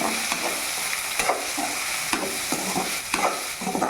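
Coconut pieces and hedge-grown herb leaves sauté in a pan, a steady sizzle broken by repeated scraping stirs of the spatula at a regular pace, close and fairly loud, with no voices.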